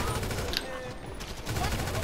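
Rapid gunfire in a gang-versus-police video game, dense bursts of shots crackling continuously through a brief moment, with a voice talking over it.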